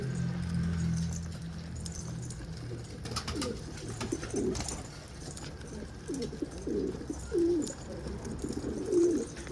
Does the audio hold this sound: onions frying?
no